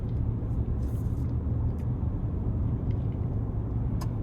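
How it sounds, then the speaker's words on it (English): Two loud trucks drive ahead of a 2025 Ford F-150 XLT with a 3.5 EcoBoost in rush-hour traffic, heard from the cabin as a steady, heavy low rumble. Faint engine and road noise runs beneath it. "I have 2 very loud trucks that are in front of me"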